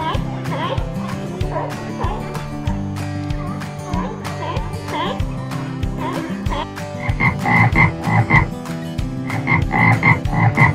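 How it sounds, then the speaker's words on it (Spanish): Frog croaks repeat in a steady rhythm over a looping children's music bed, fairly loud and close, with brighter higher calls joining in the second half. "Rana."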